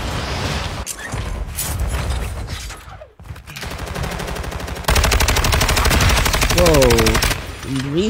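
A gun fires in rapid automatic bursts, loud and close, with a short break in between before a second sustained stretch of fire.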